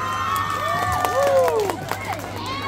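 An audience at an outdoor evening opening event at a village school in Tuyen Quang, Vietnam, cheers and claps loudly over a constant crowd hum, with shouting voices rising and falling throughout.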